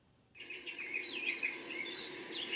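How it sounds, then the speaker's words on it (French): Birdsong from a wake-up alarm rises in a bright chorus of chirps and trills. It starts abruptly after a brief silence and continues steadily at moderate loudness with no talk. "C'est un crescendo d'oiseaux"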